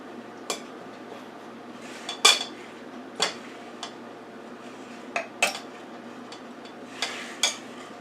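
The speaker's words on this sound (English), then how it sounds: "I just take the knife and I cut them again inside the potatoes" Knife cutting boiled potatoes in a bowl, a series of irregular light clinks and taps of metal on the dish spread over several seconds, close up and quiet, with no talking.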